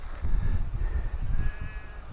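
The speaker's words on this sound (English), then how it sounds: "I hear a sheep." A sheep bleats faintly at a distance in a rural valley, a couple of wavering calls over low outdoor rumble.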